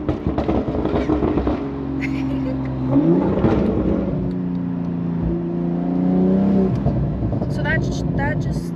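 BMW G42 M240i with a Valvetronic Designs exhaust revving up and settling back, rising and falling engine tones with scattered pops, heard close while people talk over it.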